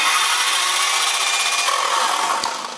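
A loud, steady high-pitched whine of a circular saw running continuously, tapering slightly at the end.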